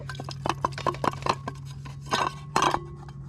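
Dishes and a fork clink and clatter while being washed up at a wild camp, with light water movement and a low steady hum in the background.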